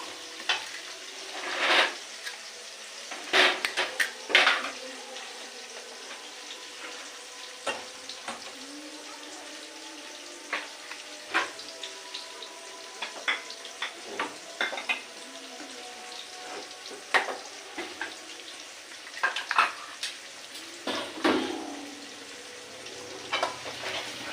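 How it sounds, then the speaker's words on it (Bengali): Onions frying in a pan for a spiced meat curry, a continuous crackling sizzle with frequent small pops and occasional louder stirring bursts, fairly close. "পেঁয়াজটা ভালো করে লাল লাল করে নেবো"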